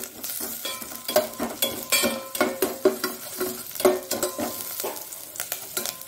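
Curry leaves sizzle and spit in hot oil in a pan on high flame, with repeated scraping stirs and light metal clinks from a spoon against the pan, steady crackling throughout, close and fairly loud.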